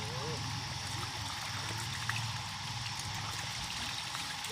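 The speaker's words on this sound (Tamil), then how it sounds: "தண்ணி எல்லாம் போகுது." Water leaks from a pipe by a house wall, a steady quiet trickle and stream of running water heard up close over a low background hum.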